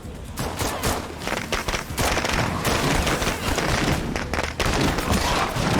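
Dense, continuous gunfire from sniper support in the video game Heartland, loud sustained bursts and volleys with booming impacts filling the whole stretch without pause.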